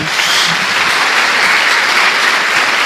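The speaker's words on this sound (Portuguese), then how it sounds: "Dê uma salva de palmas a Jesus." Sustained, dense applause from a church congregation honoring Jesus during a service, loud and steady throughout with no break.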